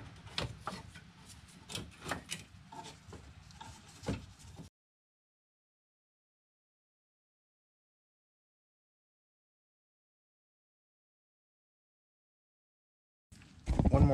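A valve cover is slid out of a Nissan Rogue engine with several seconds of close, scraping, rubbing friction and knocks, then silence before a loud burst of noise at the end.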